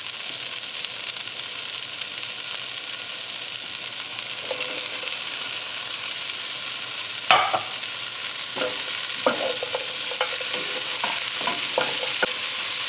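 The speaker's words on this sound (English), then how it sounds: "The cauliflower has been sauteing for about 5 minutes." Cauliflower and edamame sauté in a pan for a vegan Indian butter cauliflower curry, giving a steady soft sizzle with a few sharper stirring clatters late on, close and without talk.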